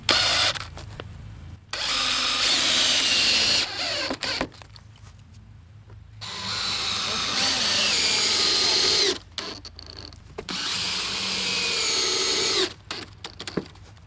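A power drill drives screws into a trailer during restoration: three long whirring bursts, each several seconds, separated by short pauses and clicks, close and loud with no talking.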